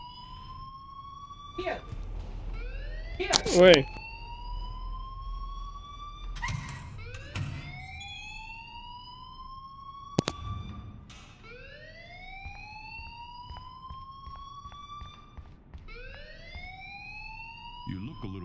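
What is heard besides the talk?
alarm ringing in the video game Life is Strange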